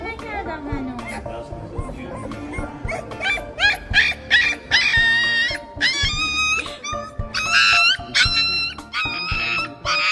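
A puppy whimpers and yelps while being given an injection by a vet, with high, wavering cries repeating in bursts close up and a voice talking over them.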